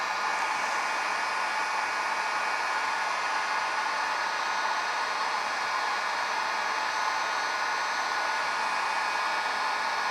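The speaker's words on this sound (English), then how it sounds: "Use the heat gun." A heat gun blows hot air onto a small 12V 100Ah LiFePO4 battery, a steady unbroken rushing hiss holding at one level, close and alone with no voices.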